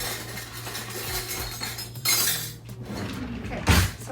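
A metal measuring teaspoon rattling and clinking against other utensils as it is fetched in a home kitchen, a few sharp jangles and clatters over a soft background hum, with no speech.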